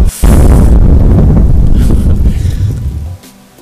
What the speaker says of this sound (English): Basically the planets make noise when they explode